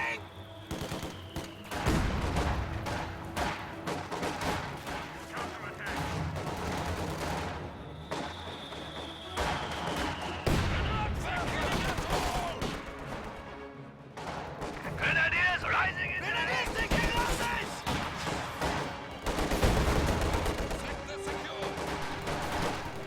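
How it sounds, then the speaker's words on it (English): Heavy mortar bombardment and gunfire in a war video game roll on continuously, with rattling bursts and deep booming impacts under a commentator's voice. "a heavy mortar will continue to bombard somewhere"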